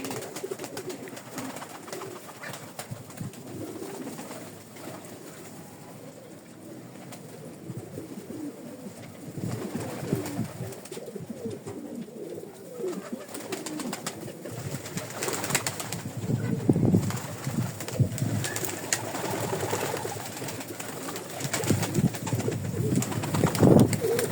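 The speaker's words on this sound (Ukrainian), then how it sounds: "Голуби стривожились, кури орали." Pigeons coo and flutter in alarm in an outdoor yard where chickens squawk, with wind rushing steadily underneath and the bird calls growing busier toward the end.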